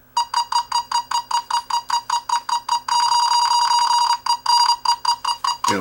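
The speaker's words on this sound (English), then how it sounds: "it'll beep even without getting that close to the wire" A non-contact voltage tester held near a live household wire beeps in a fast, steady chain of sharp electronic tones, merging into one continuous alarm tone for over a second before the pulsing resumes, loud and close.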